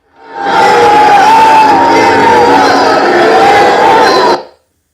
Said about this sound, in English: I want you guys to see the applause and all of the rage that they did when he came out